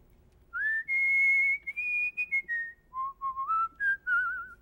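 A person whistles a tune alone, a clear melodic run of sustained and stepping notes with short breaks, close and fairly loud.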